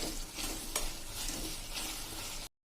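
Soft, steady sizzling of whole garlic cloves frying in oil, with light scraping as they are stirred in the pan.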